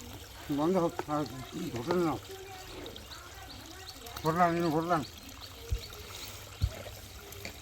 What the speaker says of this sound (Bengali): এই পানি ঢোকা শুরু হয়ে গেছে আমাদের